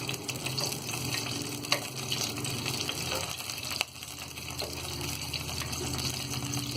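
Mustard seeds, cumin and curry leaves hit hot oil in a pan, giving a steady, moderately quiet hiss and crackle with a couple of sharper pops along the way.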